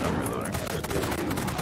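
A Vulcan gun in a video game fires a dense, continuous rattling burst, loud and close throughout, with some voice mixed underneath.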